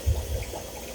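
Wastewater pours into a pond from an opened valve, a close, low gurgling splash over a continuous watery hiss, alone without voices.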